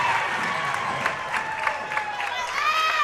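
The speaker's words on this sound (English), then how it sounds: "You hear the Lady Gold Bugs over here cheering on their boys team" Girls' team supporters cheer and clap from the stands at a boys high school basketball game, a steady crowd roar with whoops and short rising shouts, moderately close and continuous.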